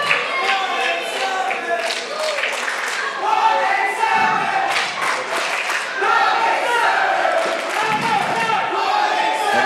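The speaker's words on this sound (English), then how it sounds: "And you can hear the crowd acknowledging" A wrestling crowd at a live match roars and chants in a dense, continuous wash of voices and scattered claps, loud and close throughout.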